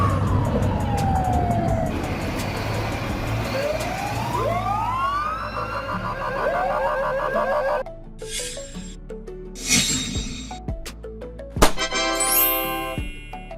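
A Ukrainian police car siren wails up and down in loud sweeping tones over traffic noise, then shifts to shorter yelping bursts toward the end, heard without talk.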